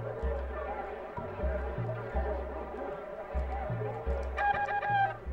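Chickens cluck in the retro game Secret of Evermore over a looping bass-heavy soundtrack, a bright burst of clucking near the end standing out above the music, with a person talking faintly underneath.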